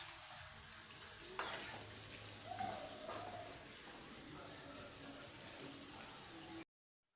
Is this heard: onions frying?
yes